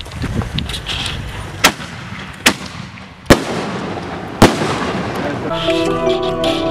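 Fourth of July fireworks lit outdoors: several loud sharp bangs spaced about a second apart, with a crackling burst at the end, over steady background noise and excited voices nearby.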